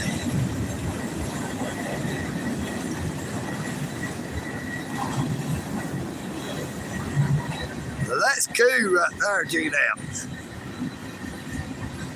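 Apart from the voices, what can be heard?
trains passing by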